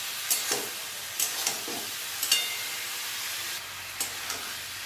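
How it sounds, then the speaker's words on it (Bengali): Spices frying in oil in a pan while being stirred, a soft continuous sizzle broken by several sharp scraping stir strokes at irregular intervals, close by. "এবার ভালো করে কষাবো বেশ কিছুক্ষণ ধরে।"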